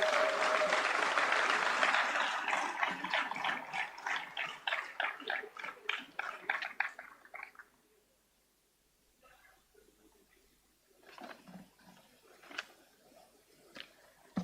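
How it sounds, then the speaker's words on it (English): Audience applause at a formal civil accounts day award ceremony, loud and dense at first, then thinning into scattered claps that fade out before a few stray claps return near the end. "Please give them a huge round of applause."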